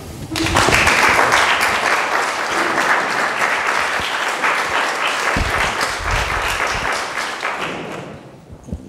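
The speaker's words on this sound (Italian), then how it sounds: "E qui adesso passo la parola al professore e farei un applauso." A lecture audience welcomes Professor Pietro Pietrini with loud, sustained applause, a thick wash of many hands that holds strong and then thins out and fades near the close.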